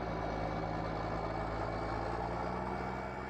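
Roughly 200-horsepower tractor engine in Farming Simulator 19 runs at a steady, loud, broadband drone while cultivating, with no change in pitch or rhythm throughout.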